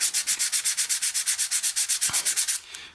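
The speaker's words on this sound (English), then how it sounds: "let's just go in right now and get some of this sanding" Sandpaper rubbed back and forth over a 3D-printed part in quick, regular strokes, about a dozen close scratchy passes in a steady rhythm with no talking.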